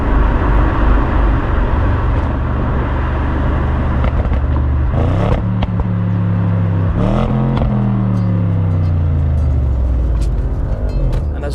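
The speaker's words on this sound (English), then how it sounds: "As we accelerate, you can just hear it popping and spluttering, and just the delivery of power is so impressive." A 2014 Audi RS 7 Sportback 4.0 TFSI Quattro accelerates hard from inside the car, its loud engine note rising through gear changes with bursts of exhaust popping and spluttering.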